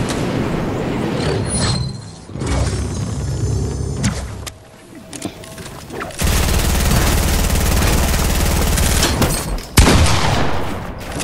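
Gunfire in a shooter video game: loud sustained bursts of rapid shots with brief lulls between heavy volleys, dense and close throughout.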